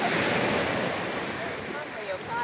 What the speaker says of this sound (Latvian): Jūra blakus mūsu viesnīcē.